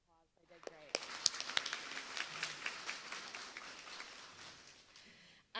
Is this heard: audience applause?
yes